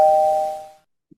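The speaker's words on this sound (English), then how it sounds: "And that's that typical bell sound." A typical notification bell on a real-estate search site rings once, a clear sustained chime that decays over most of a second, then falls to silence apart from a tiny click at the end.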